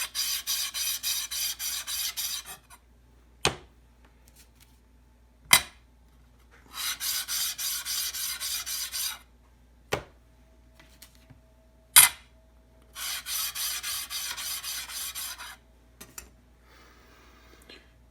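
A planer blade from a Jet JPM-13CS planer/molder being rubbed on a 400-grit sharpening stone in repeated bursts of rasping strokes, broken by sharp clicks and taps in between, quiet and close.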